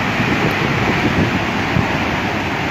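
Heavy rushing roar of a waterfall swollen by Hurricane Lorena at El Salto in Colima, Mexico, a steady dense broadband torrent mixed with strong wind buffeting the microphone, continuous and close with no pauses.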